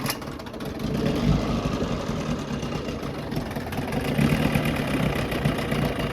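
An old 6HP Johnson outboard motor idles after a fuel pump replacement, running close and loud with a steady, slightly uneven chugging rumble and a rattly mechanical clatter.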